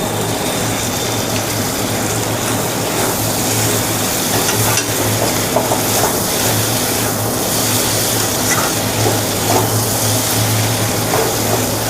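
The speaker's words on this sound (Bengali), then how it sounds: "এখন আমি একটু কাঁচা তেল দিয়ে একে আমি নেড়ে চেড়ে নামিয়ে দেবো" Green tomatoes fry in a pan with raw mustard oil, giving a loud, dense, continuous sizzling roar and faint stirring scrapes mixed in, close up, with no voices.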